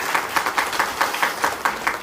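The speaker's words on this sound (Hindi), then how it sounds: "ताली बजा दो एक बार।" Audience applause at a business training session in Lakhimpur, with brisk, rhythmic clapping from a small crowd, fairly close, steady for two seconds.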